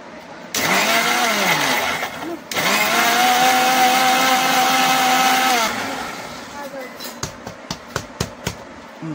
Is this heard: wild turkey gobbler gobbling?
no